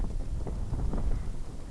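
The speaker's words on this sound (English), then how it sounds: "Boy, it's windy out here, ain't it?" Low rumbling wind buffets the microphone in uneven gusts, a steady dull roar with no voices.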